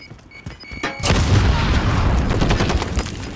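A grenade goes off in Call of Duty: Modern Warfare during a hardcore Demolition match on the Piccadilly map, a loud booming blast with a long rumbling tail after a few faint clicks.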